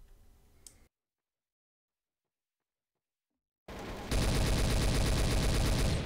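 AK rifle gunfire in the Trouble in Terrorist Town game: a short faint noise, then near-silence, followed by a loud, sustained burst of rapid automatic shots crackling at close range, with no talk.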